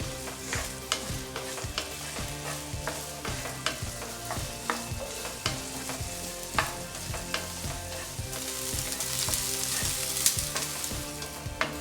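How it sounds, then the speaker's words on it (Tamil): Steady sizzling and frying of okra in a pan, with frequent clinks and scrapes of a spatula stirring, fairly close and continuous. "வெண்டைக்காய் குழகுழப்பு இல்லாமல் நல்லா வதக்கிட்டு"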